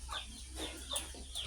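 Native village chickens (ayam kampung) on a small farm cluck repeatedly in short, close bursts, with a few higher squawks scattered through.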